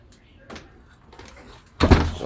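A house door closes with a solid thunk near the end, preceded by faint shuffling and indistinct voice sounds, on an evening outing with a dog.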